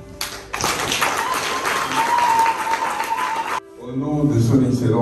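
Dense audience applause at an official Fonarev event in Kimpese, Kongo-Central, loud and steady for about three seconds before cutting off abruptly, then followed by background voices and crowd murmur.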